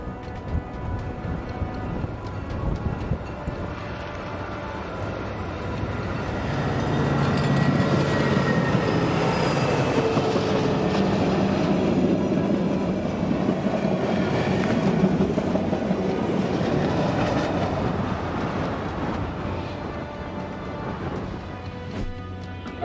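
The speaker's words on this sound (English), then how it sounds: "The footage highlights the overwhelming power of trains on the rails, operating steadily and efficiently in all weather conditions." Trains running on rails outdoors: a steady rumbling roar with metallic rattles that swells in the middle and stays continuous, no voices.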